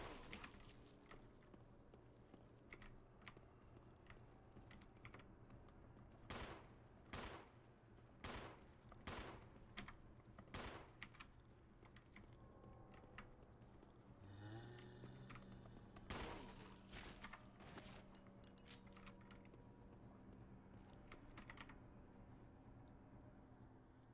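Repeated gunfire in the Resident Evil video game, sharp shots spaced irregularly through a dense, noisy game soundtrack, with other effects in the mix.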